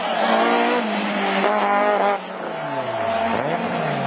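Rallycross race cars, among them a Peugeot 205, howl past on track with loud revving engines and shifting pitch as they pass close by.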